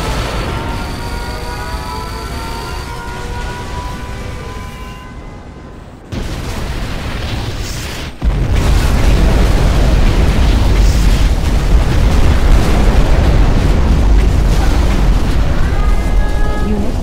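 A nuclear missile explodes in the Generals Shockwave mod of Command & Conquer: a sudden loud boom sets off a sustained, roaring broadband rumble that holds steady for many seconds, following quieter game sounds and unit voices.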